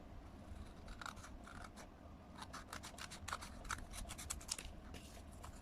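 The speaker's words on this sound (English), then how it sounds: "cut off the flap if there's any." Scissors snip through the flap of a long paper angpow packet in a quick series of close, crisp cuts, quiet and with no voices.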